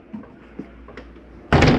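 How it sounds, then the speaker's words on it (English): A bedroom door in a 2022 Mesa Ridge 376FBH RV swings shut with a single loud thud near the end, after a few faint clicks and knocks in a quiet room. "Close that bedroom door."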